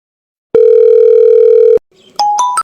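A steady telephone dial tone holds for over a second before a few quick keypad beeps sound as a number is dialed, loud and close with no voices.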